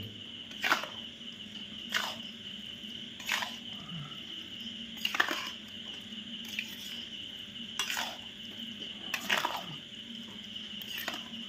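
Mahua fishing bait paste being mixed and stirred: soft scraping strokes repeat at a steady pace roughly every second and a half, quiet and close, with no voices.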